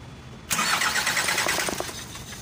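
An Isuzu 4HK1 diesel engine turns over and catches abruptly, then settles into a loud, steady idle with faint rhythmic knocks. The engine is being checked for a no-start fault with an ECM relay problem.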